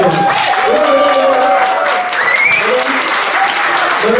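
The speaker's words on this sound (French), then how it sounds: "on va réserver les applaudissements pour le maître de maison qui va recevoir dans un instant la fourchette d'or, Monsieur Singh" A packed room at Massala Lounge in Noisy-le-Grand breaks into loud, sustained applause for Monsieur Singh, the host receiving the Fourchette d'or award in 2021, with crowd voices and cheers mixed into the dense clapping.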